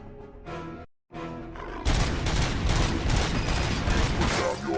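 Gunfire from ED-209 in a Robocop video game erupts after a short pause, sustained rapid bursts of loud booming shots and mechanical clatter filling the rest of the clip, preceded by brief game voice lines.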